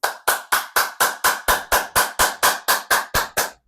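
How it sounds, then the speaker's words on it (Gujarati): Fourteen loud hand claps, fingers facing each other, ring out alone in an even, steady rhythm, each sharp and close with a brief decay. "આવી રીતે આપણો હાથ દૂર રાખીને જોરથી તાળી પાડવાની"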